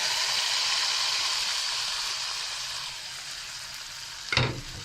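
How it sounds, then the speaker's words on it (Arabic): Sizzling fried onion is poured into a pot of Upper Egyptian-style lentils, a steady hiss fading slightly, then one loud splashing burst near the end. "هوريكم وانا بطش العدس"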